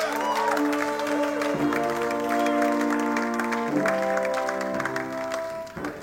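Inside a church service, a congregation claps and cheers to acclaim God, a steady roar of applause kept up for several seconds beneath sustained musical tones.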